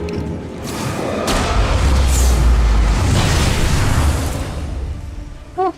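A flare gun firing in the video game Alan Wake, heard as a loud, booming, rumbling blast that swells and holds for several seconds before fading, with a brief sharp pop at the very end.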